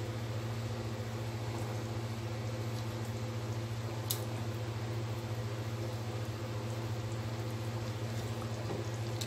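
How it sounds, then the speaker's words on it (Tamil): Fish curry boils in a pot, a steady low bubbling and simmering hiss that stays constant throughout, close and moderately quiet, with no voices. "பாருங்க குழம்பு நல்லா கொதிச்சிச்சு"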